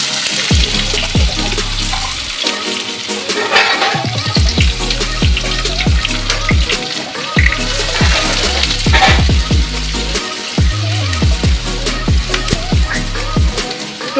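Chopped onions fry in hot spiced oil in a home kitchen, a steady close sizzle with repeated scraping and stirring thumps from a spoon against the pan.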